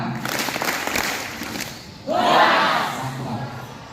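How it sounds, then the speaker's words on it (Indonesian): A school class (XI IPA 2) gathered for a literacy session breaks into a sudden, lively burst of clapping and cheering midway through, following a stretch of talking and murmuring. "tepuk tangan yang meriah"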